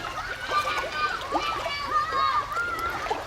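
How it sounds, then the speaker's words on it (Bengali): Fish in a pond splashing and slapping at the surface as they feed on scattered feed, with a busy cluster of close splashes while a voice talks over them. "আমি খাবারটা দিলাম দেওয়ার পর সঙ্গে সঙ্গে কিন্তু মাছগুলো খাচ্ছে দেখেন"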